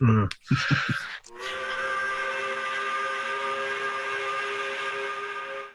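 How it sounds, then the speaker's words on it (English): After a few brief voice sounds, a loud factory steam whistle starts and holds one long, steady, harmonic blast that continues to the end. "So I've heard the factory whistle just blowing there."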